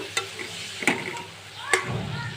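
Vermicelli (semai) stirred as it fries in a pan over medium-low heat, with three sharp scraping strokes of the spoon over a soft sizzle, close and fairly quiet.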